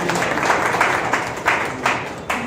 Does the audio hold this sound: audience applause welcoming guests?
yes